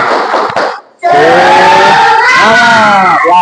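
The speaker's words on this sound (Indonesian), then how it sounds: "Kita tepuk semangat ya. Siap? Oke, tepuk semangat." A primary school class in Indonesia performs the 'tepuk semangat' spirit clap, a loud, close burst of group clapping and shouted chanting voices that cuts out briefly before resuming in full chorus.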